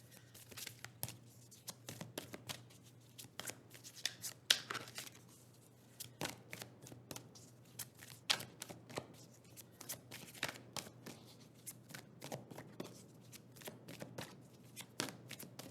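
Tarot cards are shuffled repeatedly in quick, crisp riffling bursts, fairly quiet and close, with short gaps between rounds.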